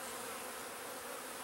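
Honey bees droning inside an opened beekeeping hive full of young bees, a constant near, even buzz that holds at the same level throughout with no voices.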